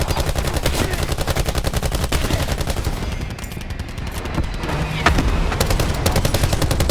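Strafing-run gunfire in the video game Black Ops 4, a loud, rapid, continuous stream of automatic shots pounding throughout with booming impacts.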